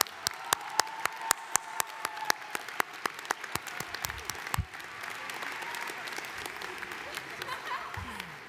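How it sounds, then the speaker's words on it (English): An audience at a 2023 commencement ceremony applauds graduating environmental biology seniors, with steady clapping from many hands that thins out midway into a softer crowd murmur, while sharp single claps stand out close by. "Let us applaud the accomplishments of these graduating seniors in the environmental biology program."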